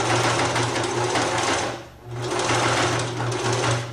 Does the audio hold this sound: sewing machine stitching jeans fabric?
yes